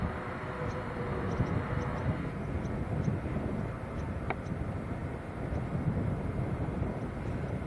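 An airplane departs Manchester Airport, its engine roar a broad, steady rumble heard from a distance under a noisy outdoor background, with faint periodic ticks and no talking.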